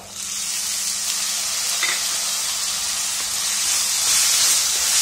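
Green peas hitting hot oil with frying ginger and garlic give a steady, close sizzle and hiss that holds for the whole stretch and swells slightly near the end, with no voices.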